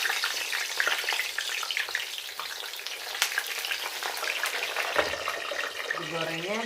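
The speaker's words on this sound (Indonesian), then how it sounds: "Kita tengok minyaknya udah panas. Mari kita goreng." Eggplant sizzles and crackles in hot oil for moussaka, a dense, close frying hiss with clattery stirring throughout and a brief kitchen tone near the end.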